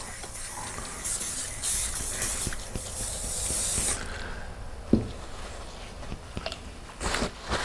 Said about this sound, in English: What we like to use at Tempsford is just a furniture polish just to finish it off.